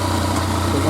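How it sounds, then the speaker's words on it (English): A 2014 Yamaha FZ-09 motorcycle idles in neutral with the clutch out, a steady close engine hum carrying a faint continuous rattle from the clutch, with no talking. "Clutch out, louder. Oh, it's even louder now. Lots of noises from the clutch."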